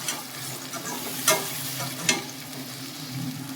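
Masala for palak paneer rice frying in oil in a pan, a soft steady sizzle with two brief stirring scrapes, close and fairly quiet, no voices.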